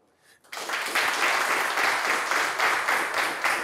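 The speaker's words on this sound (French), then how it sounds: "Merci d'applaudir mes informaticiens de gestion" Studio audience applause on the French TV game show Le Trône bursts in abruptly after a brief quiet moment and continues as a dense, steady roar of many hands until the end.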